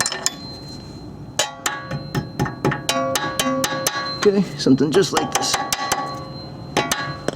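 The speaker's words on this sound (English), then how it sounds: "let me grab a hammer" Sharp metallic hammer blows ring out in an irregular series while an ABS wheel sensor is replaced inside a steering knuckle, close and fairly loud, with a voice speaking briefly in between.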